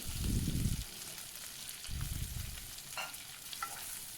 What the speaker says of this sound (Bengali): ঘিয়ের মধ্যে ভালোভাবে আলুগুলোকে একটু নাড়াচাড়া করে নিলাম